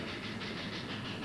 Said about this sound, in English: trains moving dirt, men and supplies with relentless efficiency